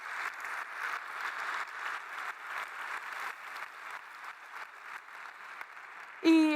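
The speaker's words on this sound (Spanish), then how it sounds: "Así que un aplauso para ella, para mi tía, que está en primera fila," Audience applause at a Spanish talk, honoring the speaker's aunt in the front row and the Asturians, rhythmic clapping that swells and holds for about six seconds before ending abruptly with a brief sharp tone.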